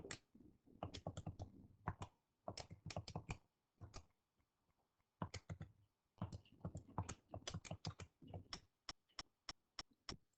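Rapid bursts of calculator key presses, crisp close clicks in quick clusters separated by short pauses, as numbers are typed in to work out an algebra sum; no one talks.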